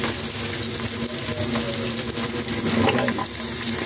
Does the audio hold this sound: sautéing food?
yes